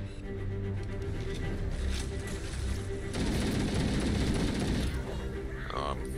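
Pistol gunfire in the Halo video game: rapid, dense shots crackling over a steady bed of game noise and music, loudest through the middle, with a voice talking along.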